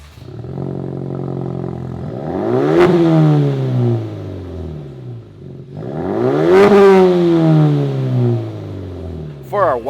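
A 2021-2022 Ford Bronco fitted with a Flowmaster exhaust revs up loudly twice at close range, each rev a rising, throaty roar that falls back to a rumbling idle.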